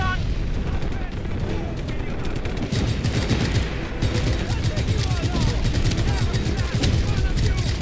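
Rapid, continuous gunfire fills a hectic video game firefight, with shotgun blasts mixed into dense overlapping shots and crackling impacts that stay loud and unbroken throughout.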